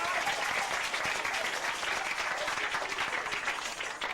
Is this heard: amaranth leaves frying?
no